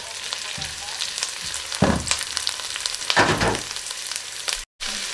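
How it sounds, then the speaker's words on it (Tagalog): Green chili tossed into a hot frying pan for a Mongolian beef stir-fry with onion, giving a steady close sizzle with two louder bursts of hissing and stirring, no talk. "Lagyan na natin ang chili green."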